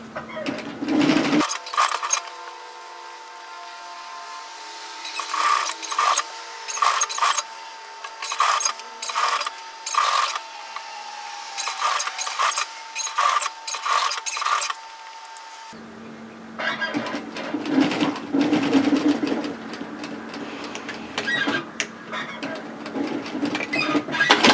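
A domestic sewing machine stitches a hoodie seam from the raw fabric edge with back tacks, in repeated short bursts of rapid needle chatter with pauses between, close and clear, with a steadier run toward the end.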